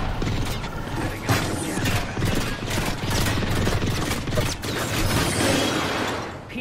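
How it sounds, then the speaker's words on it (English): Apex Legends video game gunfire: rapid bursts of shots and clattering mechanical clicks crackle in irregular volleys throughout, fairly close and loud, with no clear speech. "Oh, gunfire!"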